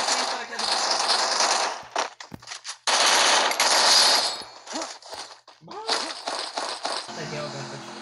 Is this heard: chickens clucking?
no